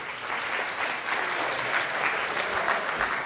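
A group claps together in a steady round of applause after finishing a fishing game exercise, dense and even throughout without speech.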